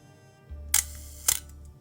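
Two sharp film camera shutter clicks about half a second apart, opening then closing on a half-second exposure, over a faint low mechanical hum.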